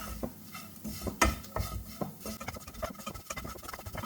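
A spoon scrapes and clinks against a pan while soya chunks masala is stirred with spices, a quick irregular run of taps and scrapes over a faint background.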